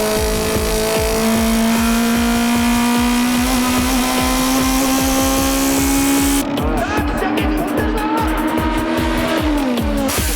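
Keiichi Tsuchiya's race car on a qualifying time attack, loud engine screaming through sustained revs with gear changes and tire squeal, close and continuous, a shift in tone near the end.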